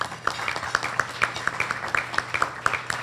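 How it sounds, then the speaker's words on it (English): Applause from an audience at a Tiger Bay Club civic luncheon in Manatee County, a modest crowd clapping with scattered, uneven hand claps, steady and close throughout. "Please give her a round of applause."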